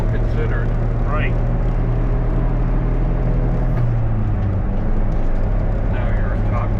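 A 1991 Honda Acty Sport G kei van cruising in top gear at about 4,500 RPM and 80 km/h, its small engine giving a steady loud drone with road and wind noise, as people talk over it throughout.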